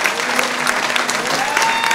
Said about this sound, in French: Merci aux enfants. Applaudissez-les s'il vous plaît.